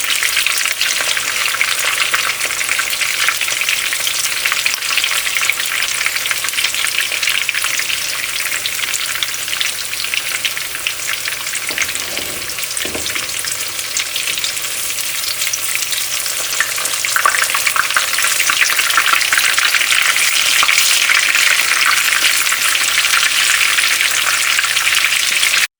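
Malai chapli kababs fry in a frying pan over medium-high heat as they are flipped. A steady, close sizzle runs throughout, with a brief dull knock near the middle.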